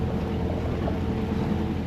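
A sailboat under sail in light wind near Gruissan gives a steady broadband rush of wind and water, constant and fairly loud, with no voices.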